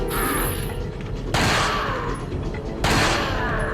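Gunfire in the Resident Evil 4 video game sounds as two sharp, loud shots about a second and a half apart, over a steady bed of game ambience.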